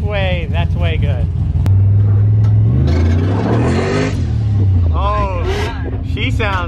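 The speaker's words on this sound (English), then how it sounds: "Rev it up like high." A car engine, just fitted with aftermarket metal fenders, revs up high and loud, its pitch climbing and falling through a sustained rev before settling back toward a rumble, with voices talking over the start and end.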